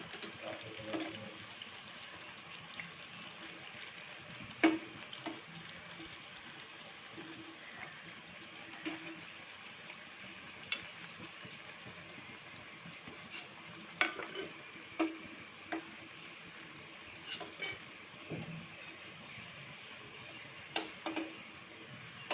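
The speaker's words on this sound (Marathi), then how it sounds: "आपली जिलेबी अशी कुरकुरीत तळली जात आहे" Jalebi deep-frying until crisp, a soft, continuous bubbling sizzle of hot oil with scattered light clicks and taps from the pan over about twenty seconds, without any voices.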